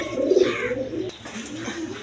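Danish pigeons with three red bars coo in soft, rolling calls, close and fairly loud at first and then quieter, with no talk over them.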